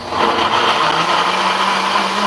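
A kitchen blender whirs loudly and steadily up close while blending fresh coconut and water into coconut milk, a constant motor drone with no pauses.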